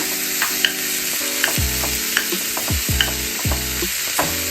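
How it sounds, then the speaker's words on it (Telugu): Onions sizzle in a small hot pan while Telangana-style fish curry is cooked, with a steady frying hiss and repeated sharp scrapes and clatters of stirring, and no voices. "ఆనియన్స్ వేస్తున్నాం."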